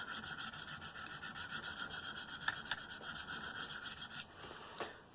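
A knife blade, an M4 Manix, is deburred on a KME sharpener, giving quiet, close, rhythmic rasping strokes of stone on steel that repeat evenly before trailing off into a couple of light scrapes.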